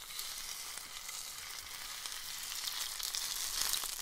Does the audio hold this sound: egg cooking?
yes